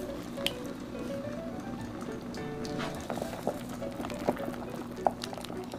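Rice grains are scooped out of sweet pumpkin sikhye, giving soft liquid sloshing and dripping with a few small splashes and light clinks over a quiet background.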